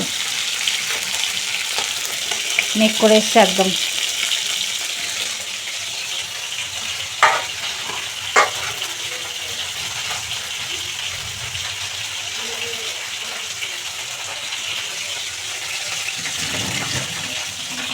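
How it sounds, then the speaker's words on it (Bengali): Steady sizzling of fish frying in a pan runs throughout, with a few clinks and brief voices speaking near the start. "এদিকে এখনও মাছ ভাজা হচ্ছে"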